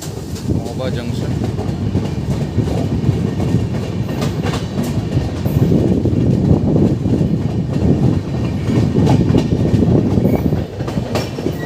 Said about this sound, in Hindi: ये हमारी ट्रेन